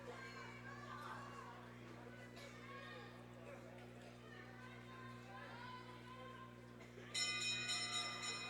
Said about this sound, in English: there's the bell for Wilkins as she's lapping up the field